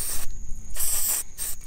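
Lubricant spray hissing onto a rusty fishing reel on a Louisiana redfish and speckled trout trip, two close bursts, a longer one followed by a short one, with a brief mechanical click between them.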